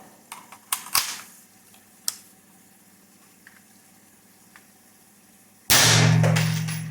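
A 60-year-old Colt 601 AR15 fires its last rounds, sharp close reports at irregular intervals, then the bolt locks back on an empty magazine, followed by a loud, sustained noise at the end.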